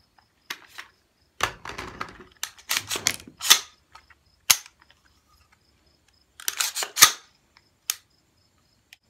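Turkish-made pistols fired during a decibel test, several sharp isolated cracks and short clusters of snaps separated by silence, some loud and close, others fainter.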